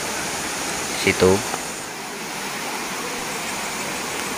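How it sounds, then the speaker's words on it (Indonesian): Rushing water of the Irenggolo waterfall in Kediri, a steady broadband roar filling the scene, with a brief voice speaking over it. "sekarang kita sudah sampai di air terjun Irenggolo ya, teman-teman"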